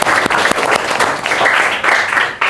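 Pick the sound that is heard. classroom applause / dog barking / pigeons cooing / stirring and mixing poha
classroom applause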